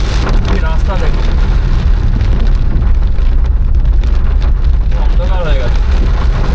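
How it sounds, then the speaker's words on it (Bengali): Heavy rain pours down on a car driving along Sevoke Road through dense forest, a loud continuous drumming hiss with road rumble beneath, and people talking over it at times. "এই বৃষ্টির মধ্যে দিয়ে যাচ্ছি আমরা"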